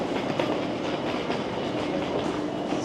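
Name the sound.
Dutch InterCity double-decker train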